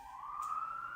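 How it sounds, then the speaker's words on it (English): An emergency vehicle siren sounds on a New York street, a single steady wail held at an even, moderately distant level with no talking. "See, now I'm distracted because the fucking siren's in the background."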